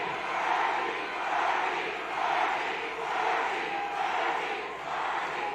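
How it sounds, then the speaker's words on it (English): Large, loud crowd at a political rally in Spartanburg, South Carolina, cheering and roaring continuously in steady swelling waves, heard from within the gathering with no single voice standing out. "Not only is this a large crowd, you are a loud crowd."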